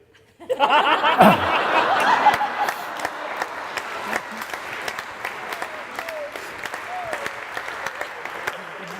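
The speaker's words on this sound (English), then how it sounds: "That was an unconscious clap." Wedding guests break into applause during a reception speech, the clapping rising suddenly and staying loud, then thinning into scattered claps with light laughter and murmured voices underneath.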